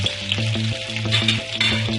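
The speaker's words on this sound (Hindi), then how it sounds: "अब इसके अंदर प्याज ऐड कर देते हैं और इसे ब्राउन करते हैं।" Onions browning in hot oil give a steady close sizzle and crackle, with a low tonal hum running beneath the frying.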